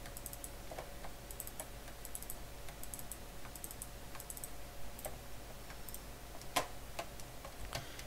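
Computer keyboard keys tap faintly during Minecraft play, with scattered light clicks and short bursts over a steady low hum, alone without talk.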